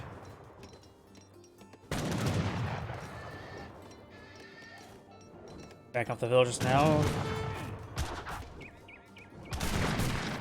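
Heavy cannon firing in Age of Empires 3, loud bursts of gunfire and booms with a clustered volley around the middle and another near the end, under steady commentary and game sound effects.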